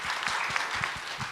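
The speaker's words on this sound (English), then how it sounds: "Please give you a round of applause." A short round of audience applause, loud and evenly dense, with a few individual claps popping out close to the microphone.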